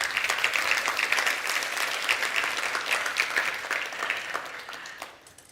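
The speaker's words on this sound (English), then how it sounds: "Big round of applause, please" Conference audience at a wealth-tech event gives a big round of applause, dense sustained clapping that holds steady for several seconds and then fades out near the end.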